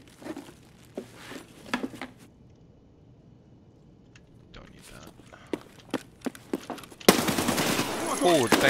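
Automatic gunfire in the Escape from Tarkov video game, sharp bursts of shots and footsteps, then a sudden loud rapid-fire stretch near the end, with a voice speaking.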